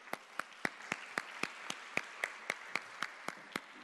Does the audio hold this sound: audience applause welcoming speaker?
yes